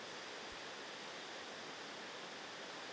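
Waterfall on Shin-Kamigoto, swollen after recent rain, heard as a steady broadband roar of rushing water, constant and enveloping with no voices.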